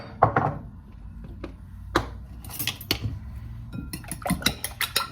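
A whisk clicks and taps against a bowl as eggs seasoned with pepper and salt are beaten in a home daycare kitchen, with scattered sharp metallic clinks and quick rattling bursts close to the microphone, no talk.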